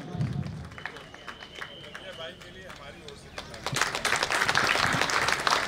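Applause for a staff member at a university Independence Day celebration, starting as light scattered clapping under a speaking voice, then swelling into fuller, louder applause from a crowd near the end.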